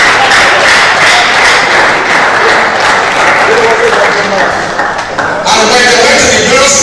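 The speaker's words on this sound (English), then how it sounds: "Clap for us, please. Clap for us." Audience applause at a 40th anniversary celebration: dense, loud clapping from a crowd fills the whole stretch, with a brief dip near the end before it surges again, and voices mingle underneath.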